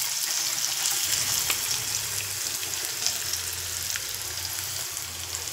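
Ground batata vada paste poured into a hot pan sizzles and fries steadily throughout, a continuous close hiss with faint low stirring bumps and no talking.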